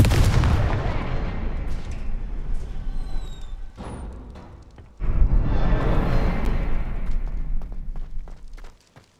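Confringo fire spells exploding in the Hogwarts Legacy video game: loud, booming blasts with a rumbling tail, one heavy burst near the start and another striking midway, then a sustained crackling roar that fades out. No talk.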